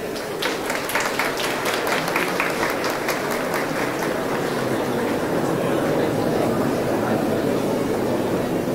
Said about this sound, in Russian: давайте поддержим наших финалистов аплодисментами